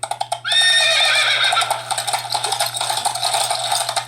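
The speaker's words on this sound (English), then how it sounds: "Oh, you got galloping horses." Played from a handheld game device's speaker, a horse sound effect opens with a loud neigh and whinny, then carries on as a busy rattling clatter of hooves over a low steady hum.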